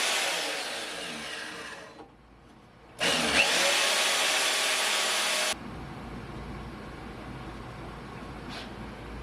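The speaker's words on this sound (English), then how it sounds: "we can just cut it in the jig on the bandsaw again" A bandsaw cuts tube held in a jig for a rockabilly buggy build, giving a harsh whirring rasp that fades out, then a loud burst of cutting noise that stops abruptly, leaving a quieter motor hum.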